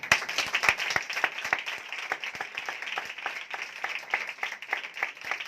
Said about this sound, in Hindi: जरा तालियां बजाओ जरा।